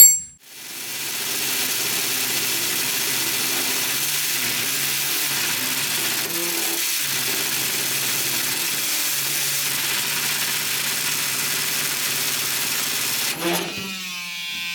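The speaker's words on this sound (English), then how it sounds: "I'm gonna have to cut that because it's just getting stuck all the time" A power cutting tool grinds through a stuck bolt on a Citroën AZU, a loud, steady high-pitched whine that starts abruptly and holds for over ten seconds with slight wavering before tapering off near the end.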